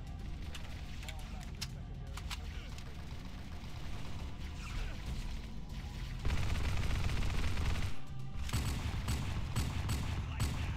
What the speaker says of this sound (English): this SMG is actually not bad.